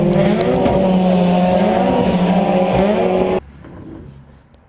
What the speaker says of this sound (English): in the in-car video, you can hear his RPM go through the roof when it snaps